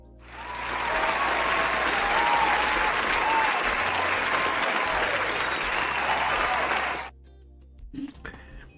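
A crowd breaks into sustained applause, building quickly and holding loud and dense for about six seconds, then cutting off abruptly, followed by a few faint clicks and murmurs.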